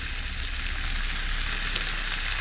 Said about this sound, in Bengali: আবার এগুলো দিয়ে ভালো করে নাড়িয়ে চাড়িয়ে কষে নিই